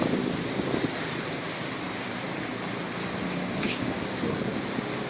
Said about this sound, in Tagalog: Tinatay ang mga nasa 175 kilometers per hour ang hangin dito